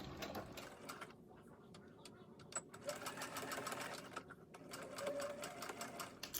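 A sewing machine runs back and forth in short passes, backstitching elastic onto a fabric mask. The whirring stitching is close and steady, with brief pauses and changes in speed.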